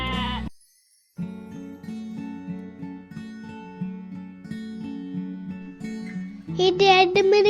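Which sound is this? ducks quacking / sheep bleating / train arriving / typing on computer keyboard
sheep bleating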